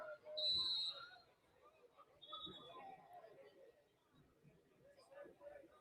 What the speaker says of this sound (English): And another whistle.